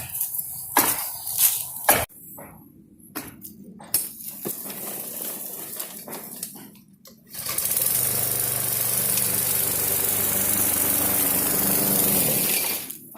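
After some clattering and knocks, a previously flooded lawn mower's small engine starts up and runs steadily at a constant idle, fairly loud and unbroken.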